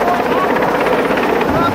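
A hovering rescue helicopter roars loud and close, its rotor chop and turbine whine holding steady throughout, with voices talking over the noise.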